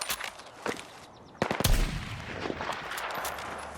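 Bursts of rapid gunfire crack out in the video game Battlefield, then a heavy booming blast rolls through, followed by continued scattered shots and rumbling debris.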